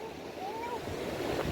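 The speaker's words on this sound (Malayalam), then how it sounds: "ഇനി ഇതാ കടല്." Sea waves wash continuously at a beach in Kollam, Kerala, as a steady broadband roar with wind noise on the microphone and no clear individual breaks.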